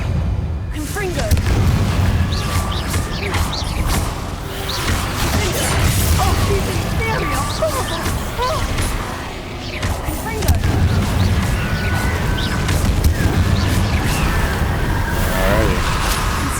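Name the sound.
Confringo fire blast spell in Hogwarts Legacy video game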